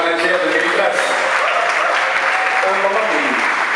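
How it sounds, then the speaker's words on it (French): Audience at a concert show cheering and applauding for the manager, a steady wash of clapping and crowd noise with voices mixed in throughout. "Est-ce qu'on peut acclamer pour le manager?"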